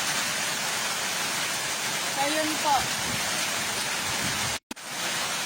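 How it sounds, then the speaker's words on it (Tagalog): Steady heavy rain and wind from typhoon Ulysses roar across the whole clip in Santiago City, Isabela, a dense wash of noise with a brief voice speaking under it and a short dropout near the end. "Malakas po yung ulan tsaka hangin."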